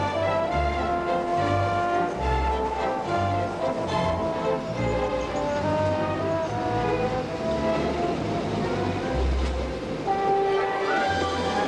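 The TranzAlpine locomotive runs along snowy Alpine track in New Zealand, a loud, steady rumble with throbbing low engine pulses and sustained harmonic drone throughout, heard close and alone.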